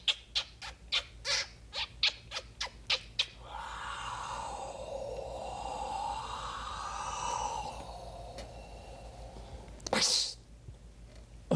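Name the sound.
human voice imitating bird calls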